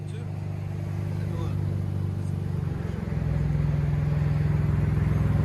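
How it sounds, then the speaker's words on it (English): A 2014 Dodge Challenger V6 with true dual straight pipe exhaust idles loudly up close, a deep throbbing rumble that swells slightly as the engine picks up revs, with people talking over it. "2014 Challenger V6. True dual straight pipe."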